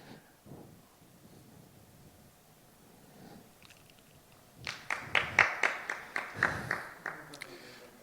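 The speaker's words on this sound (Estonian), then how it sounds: "It was sympathy applause, but thank you." Audience applause at a lecture: after several seconds of quiet room tone, a short burst of scattered clapping from a modest crowd rises and fades, with faint voices around it.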